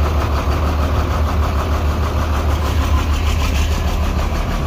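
Rail King model train locomotive running in gear with its wheels spinning, giving a loud, steady motor hum that holds without a break throughout.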